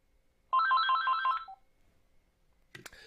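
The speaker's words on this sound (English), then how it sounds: "Got a phone call." Telephone ringing indoors in a workshop: one fast warbling electronic ring burst lasting about a second, clear and close, followed by quiet and a brief clatter.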